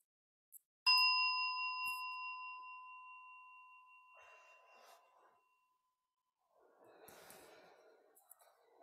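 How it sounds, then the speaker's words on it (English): A meditation bell struck once, its clear ringing tone sustaining and slowly fading over several seconds, followed by soft breathing. "And I'll be inviting the bell."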